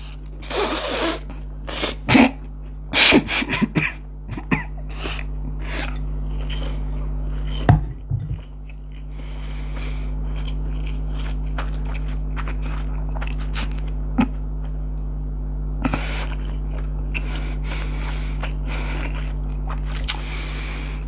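Someone eats a large serving of soba noodles, with bursts of close, sharp slurping sounds separated by quiet pauses and chewing, a faint steady hum underneath.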